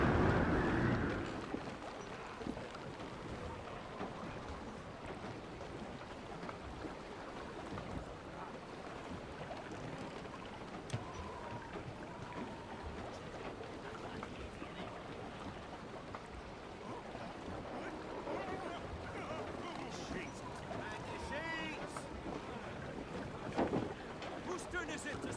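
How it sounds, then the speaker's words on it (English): Steady wind and rushing sea surround a sailing ship in Assassin's Creed Rogue, a continuous broad roar of gusts and water with creaks, while a voice speaks faintly. "The wind is picking up!"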